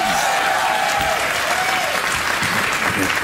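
Studio audience applauding on a talk show, a dense, steady wash of clapping that stays loud and even throughout, with a faint voice briefly rising over the crowd.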